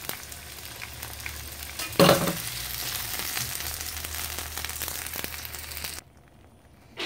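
Tomato hits hot oil in a pan for caldo tlalpeño with a sudden loud burst, then settles into a steady crackling sizzle for several seconds before cutting off abruptly.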